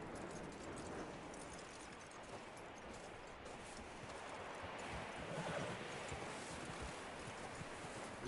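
Horse hooves clopping steadily along with faint rustling in the video game Red Dead Redemption 2, a continuous even gait and no voices.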